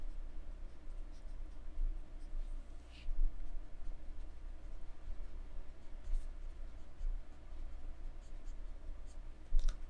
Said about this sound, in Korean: 여기 써볼게요, 문제를.